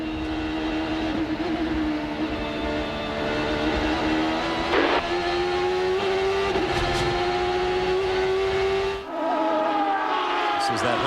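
Champ Car race cars at the 2003 Cleveland round screaming down a straight at about 170 mph, a loud sustained high engine whine that shifts pitch as the cars pass, with commentary over it.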